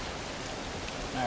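Steady hiss of falling rain in the video game Yakuza Kiwami, a dense even patter that swells slightly louder at the end.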